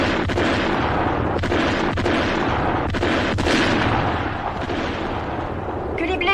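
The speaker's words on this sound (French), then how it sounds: "Mettez en marche artillerie lourde." Heavy artillery fire in a war film booms in a dense, continuous barrage, loud and rumbling with repeated blasts under a wash of battle noise.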